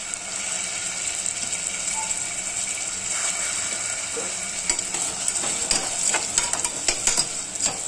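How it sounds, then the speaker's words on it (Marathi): Potatoes frying in oil for a Mahashivratri fasting dish of sabudana khichdi. A continuous sizzle, later joined by sharp, irregular scraping and clinking as the pan is stirred, with no talk. "हे तेलामध्ये थोडेसे बटाटे फ्राय होऊन द्यायचे."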